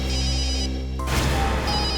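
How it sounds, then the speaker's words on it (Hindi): A telephone rings loudly indoors in a crime-drama scene, a steady electronic ring sustained over dramatic background music, with a sharp change in tone partway through. "सालुंखे साहब का ही फोन है"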